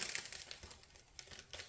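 Sheets of Naturally Gilded 12 by 12 Specialty Designer Series paper crinkle and rustle close up in a short, irregular burst of crisp crackles, with no talking.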